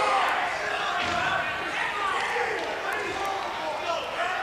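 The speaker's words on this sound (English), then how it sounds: "crowd really doesn't like that one" Basketball arena crowd at a 1997 men's game between BV and Central reacts to an offensive foul call with a sustained, loud roar of booing and voices filling the gym, steady throughout with scattered shouts.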